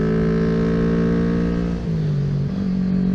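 A dirt bike engine pulls hard uphill, a loud, steady, close droning note that holds strong, dips briefly as a gear shifts, then resumes, with no voices.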